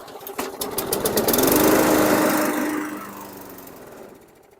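An old junk lawn mower's engine, just primed, catches with a rough sputtering roar, runs briefly and then winds down and stalls, loud and close with no talk.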